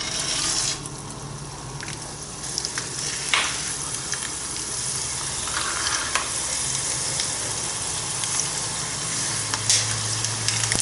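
Seeds for salsa macha fry in oil with a constant, lively sizzle, broken by scattered pops and the scrape of stirring, close by and without voices.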